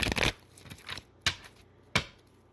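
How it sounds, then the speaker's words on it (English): Tarot cards being shuffled by hand, a few quick riffling and slapping bursts close up and quiet, with no talk. "Shuffle the cards real quick."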